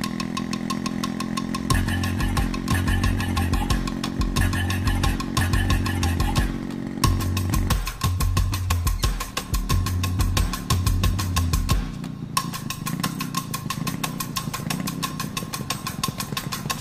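A faulty motorcycle engine runs steadily close by with a throbbing, pulsing mechanical rumble and a rhythmic low thump. The sound continues for the whole stretch, with a brief dip partway through.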